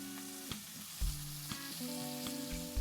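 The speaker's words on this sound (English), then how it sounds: "Like I said, we really want to sear the meat." A beef burger patty sears and sizzles with onions in a hot pan, a close, steady crackling hiss with occasional sharp pops and scrapes, no voices.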